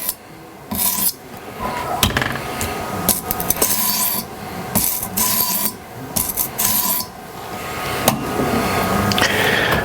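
A knife blade is drawn in a few rasping strokes across a coarse sharpening stone to remove a burr, each stroke a gritty scrape with short pauses between, close and clear with no talk.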